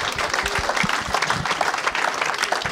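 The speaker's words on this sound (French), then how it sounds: "est-ce qu'on peut acclamer le Seigneur?" A church congregation applauding and cheering, a continuous wash of many hands clapping, with scattered voices rising within it.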